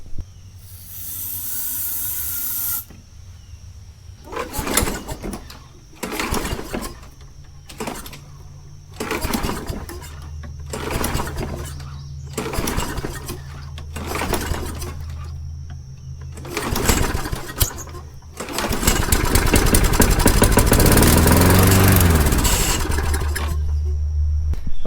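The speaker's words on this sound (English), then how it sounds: "it ran until the carburetor ran out of starting fluid, and then it died" Small engine with a bad priming bulb and mouse damage, running on starting fluid sprayed into the carburetor. It sputters in a series of short, loud bursts, then gives a longer, harsher stretch of running near the end.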